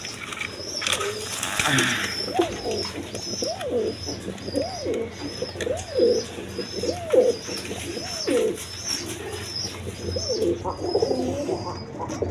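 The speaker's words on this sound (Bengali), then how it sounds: "এটা হলো লুটন কবুতর" Lotan pigeons coo in a steady, rhythmic series of soft, rolling calls, close by, with faint repeated high chirps and light background noise.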